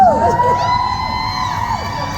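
A crowd at a children's dance show event screams and cheers loudly and close, shrill high voices and whoops sustained throughout, with a voice over a microphone briefly under it.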